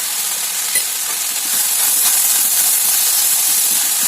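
Vegetables cooking with salt and turmeric are stirred in a pan, a steady loud hiss and sizzle with faint scraping, close up and continuous throughout.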